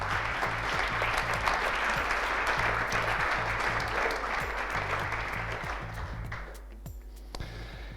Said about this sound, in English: Please, a big applause for our sponsors.